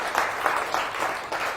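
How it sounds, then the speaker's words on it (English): An audience claps for a man named Dave at a Resolution Night event, a continuous round of applause with steady pulsing rhythm throughout the short stretch, fairly close and full. "Big round of applause and encouragement for Dave."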